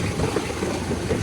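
A village tractor engine runs with a steady, unbroken low rumble, moderately loud and close, with no voices over it.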